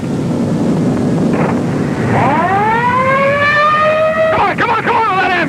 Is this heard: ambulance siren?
yes